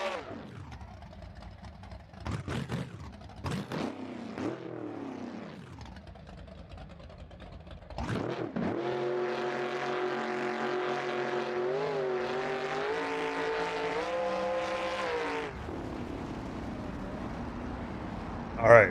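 A BeamNG.drive drag race car blips and revs its engine in short rising bursts, then launches into a long, steady, loud engine roar climbing through gears before cutting off; someone talks faintly underneath.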